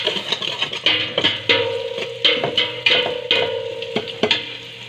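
Garlic and onion sautéing in a deep soup pot, with a utensil scraping and stirring in repeated strokes over a steady low sizzle, close and fairly loud with no talking.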